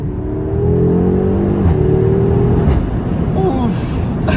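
A 2022 Audi S3 Sportback accelerating hard, its engine and exhaust note climbing through rising revs and dropping briefly at a gear change, loud and close from inside the car with speech-like sounds mixed in.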